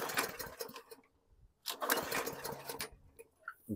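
A 2018 Hyper Tough lawn mower being pull-started without priming, giving two short bursts of cranking and sputtering separated by a brief pause, close and fairly quiet, with no catch into a running idle.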